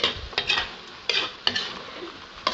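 A utensil stirs pork menudo with liquid seasoning in a pan, making several scraping, sizzling strokes at an uneven rhythm, close and fairly loud with no talk.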